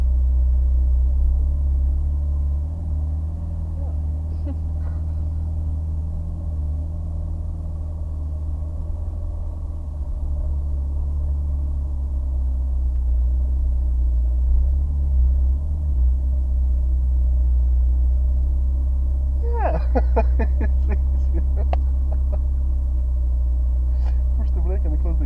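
Ferrari California T engine idling and pulling gently in Maranello as a low steady rumble close by, with a brief rise in revs, under ongoing conversation.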